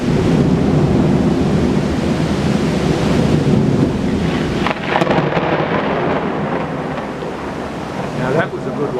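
Thunder rumbles during a big storm in Pattaya, Thailand, a loud continuous roar mixed with rain and wind buffeting the microphone, with a sharper crack about midway.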